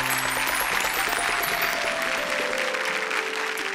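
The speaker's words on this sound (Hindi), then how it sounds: "जोरदार ताली से स्वागत करते हैं।" A studio audience at a televised Hindi comedy and poetry show claps loudly in a warm welcome. The short burst of applause is accompanied by sustained musical tones.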